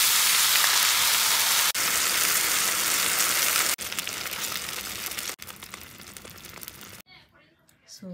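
Onion, green pepper and mushroom fry for a carbonara sauce, a loud steady sizzle that drops off in steps and fades into quieter sounds near the end.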